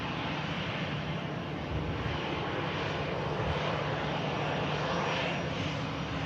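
A Eurowings airliner, part of the Lufthansa group, passes overhead with a continuous, moderately distant engine roar that holds steady without any voices.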